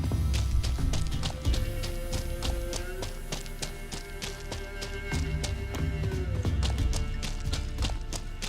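Roach the horse gallops in the video game The Witcher 3, with steady, rhythmic hoofbeats close by under a background game score.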